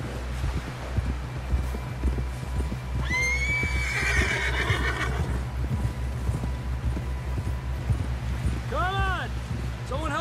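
A horse in Red Dead Redemption 2 whinnies loudly up close as hooves clip-clop at a steady walking rhythm, with a second higher neigh near the end.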